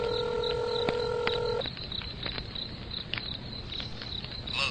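A telephone number is dialed as a quick run of touch-tone keypad beeps, each short tone clear and close, over a steady chirring of crickets in the background.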